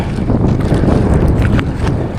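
A strong headwind buffets the microphone on a small fishing boat on open water, a loud, continuous low roar with gusty surges and faint splashing beneath.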